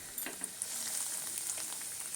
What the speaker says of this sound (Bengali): এবার আমি ভেজিটেবিল চপগুলো ভেজে নেব।